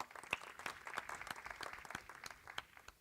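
Scattered, quiet clapping from an audience at a demo day, applauding the project finalists. It is a thin, uneven smattering of individual claps rather than a full ovation, heard at a distance for about three seconds.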